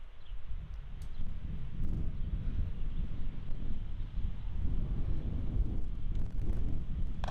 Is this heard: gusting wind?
yes